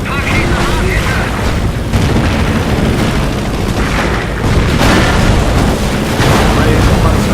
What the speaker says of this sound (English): Henschel aircraft will fly by the target location, targeting all enemies within their flight path.